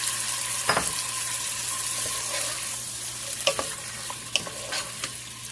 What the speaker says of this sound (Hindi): उसके साथ ही जो चिकन है ये हम डाल देंगे।